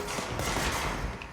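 Shotgun blasts from the video game Control, a dense, loud burst of gunfire packed with thumping reports across a short stretch, with no talking over it.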